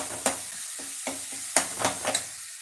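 Ingredients for egg gravy sautéed in a pan, with a soft steady sizzle broken by several sharp scraping stirs of a spoon against the pan, close and moderately quiet.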